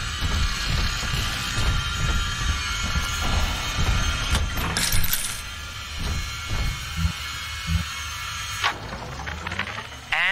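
A train in the BioShock 2 video game starts up and runs, giving a loud steady mechanical rumble with rattling, clanking and a shifting hum that carries on throughout.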